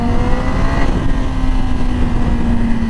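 A 2020 Yamaha R6 motorcycle accelerates, a loud, steady high-revving engine roar with a sustained tonal whine and wind rush, close and continuous for a few seconds with no speech.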